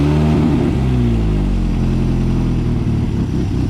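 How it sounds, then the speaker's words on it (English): A Ford Fiesta ST engine with a blowing exhaust runs at a track, a loud, rough, steady drone with spluttering low rumble and no talk. "Other than your exhaust blow, is that how they normally sound? Spluttering"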